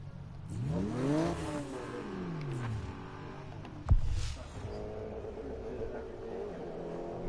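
A race car engine in Need for Speed 2015 revs up through rising pitch sweeps, then eases off as a sharp thump hits midway and a lower engine drone carries on, fairly faint and without voices.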